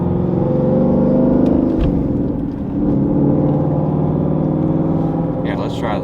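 A Ford Mustang's engine revs during a manual downshift, heard from inside the car. A loud, steady engine drone shifts pitch partway through, and a brief voice comes in near the end.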